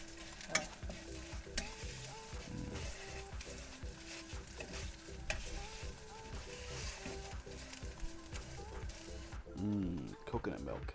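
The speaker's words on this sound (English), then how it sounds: "Frying chili paste right now." Chili paste sizzles and spatters in a hot pan for a Thai beef curry, with occasional stirring scrapes and a brief louder burst near the end.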